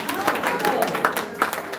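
A ceremony audience honoring Jamaican guidance counselors gives a short burst of steady applause, moderately loud, with scattered voices mixed into the clapping.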